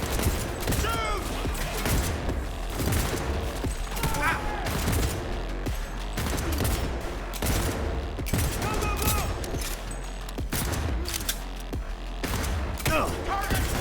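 Sustained gunfire in Cyberpunk 2077, a dense run of sharp repeated shots and bursts throughout, loud and close, with a voice talking over the game action.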